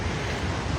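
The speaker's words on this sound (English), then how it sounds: "it really is windy" Steady, roaring wind buffets the microphone in a small park, with a constant low rumble and hiss throughout, no talking.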